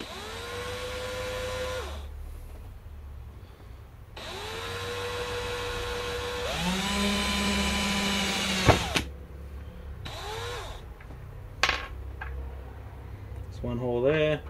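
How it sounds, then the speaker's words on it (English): A power drill drilling holes in a flashlight's circuit board whines in several bursts, its pitch rising as it spins up and holding steady, with short pauses and a few clicks between runs. "now we've got to just drill two holes for the positive and negatives to get through"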